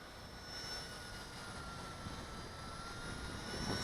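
A steady, droning motor whine with a buzzing rotor hum holds at an even level throughout, from a Blade 200 SR X remote-control helicopter hovering nearby.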